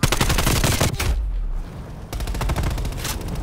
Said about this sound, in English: Dude, I'm shooting you first